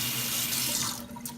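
Kitchen tap water runs steadily over a utensil being rinsed, a close, continuous splashing hiss that eases slightly toward the end, with no talking.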